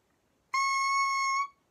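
Bare oboe reed blown with the lips gives a single steady buzzing crow about one second long, bright and reedy, close and alone.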